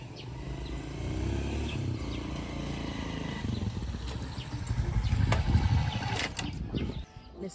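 A motorcycle taxi engine idles steadily at a low rumble in an outdoor street setting, holding a constant drone that swells slightly toward the end, with no talk over it.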